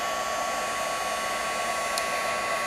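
Heat tool embossing a faux snake skin surface gives a close, steady blowing whir like a hair dryer, unbroken throughout, with no talking.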